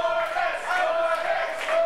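Wrestling crowd at an RWA event cheering for Alex Corvis, a loud, sustained roar of many voices with chanting swells, filling the space throughout.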